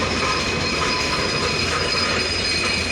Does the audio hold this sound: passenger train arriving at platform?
yes